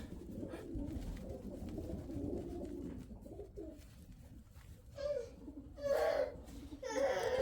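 Young pigeons coo in soft, throaty bursts, with several louder rolling coos toward the end over a low background murmur.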